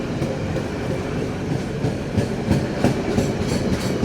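A passenger train's generator car, carrying the genset that powers an eleven-car Ranggajati rake hauled by a CC206 locomotive, rolls steadily past nearby with a continuous loud rumble and rhythmic clickety-clack of wheels over rail joints.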